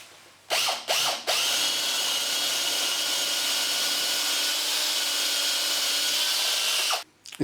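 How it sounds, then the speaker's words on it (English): A power drill bores holes through timber rack pieces for overhead garage hangers, with two short bursts of the motor spinning up followed by a long, loud continuous drilling run of about six seconds that stops abruptly, close up. "So I'm now just going to drill these."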